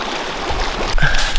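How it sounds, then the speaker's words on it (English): A mountain stream flows on a trek route in Peru, a close, steady rushing babble of water with a brief splash and rustle near the end. "Usually want to go to the center where the stream is stronger."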